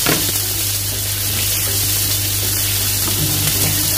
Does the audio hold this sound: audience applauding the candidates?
no